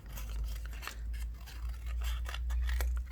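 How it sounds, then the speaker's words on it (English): Scissors snipping out paper rose shapes for a mixed media flower garden, a quick run of close, crisp cuts in an irregular rhythm, quiet and alone. "you just cut your roses out in a shape"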